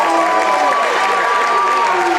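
A basketball crowd at a Roncalli versus Britton-Hecla high school regional quarterfinal applauds and cheers a three-pointer, a steady, loud wash of clapping and shouting that fills the whole moment.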